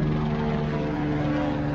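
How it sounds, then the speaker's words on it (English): A helicopter flies low over a rural yard, giving a steady, loud droning hum with a strong rotor and engine tone that stays constant throughout. "can you even hear me from that helicopter?"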